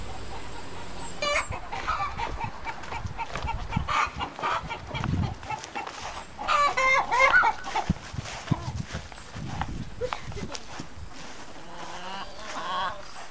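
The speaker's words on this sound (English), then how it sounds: "Something's happening with the chickens." A busy flock of hens clucks and murmurs nearby, scattered calls overlapping throughout with a few louder squawks.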